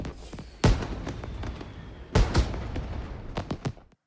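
Thunderous magical explosions boom through a foggy sky, two heavy blasts followed by a cluster of smaller cracking bursts, loud and echoing, with no voices.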